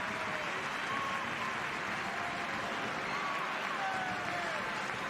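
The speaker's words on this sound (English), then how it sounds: "You hear the crowd." Rugby crowd at a Spain v Ireland match applauding as veteran player John Zabala comes on, a steady broad wash of clapping and crowd noise held at even loudness throughout, with faint whistles or calls drifting over it.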